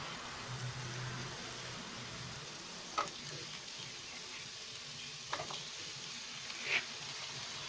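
Okra (bhindi) sizzling in a hot pan: a steady, moderate frying hiss with a few sharp clicks and scrapes from utensils.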